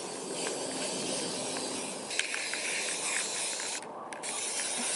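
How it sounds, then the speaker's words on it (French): An aerosol spray paint can hisses in a continuous, close burst that lasts several seconds, broken by a brief rattle and a short pause near the end. "J'ai mon sac de poubelle, mes grilles, mon spray paint."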